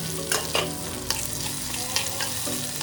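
Shallots, tomato and green chillies sauté in a pan for a Thiruvananthapuram-style fish curry, sizzling steadily up close while a spoon stirs and scrapes them in several distinct strokes.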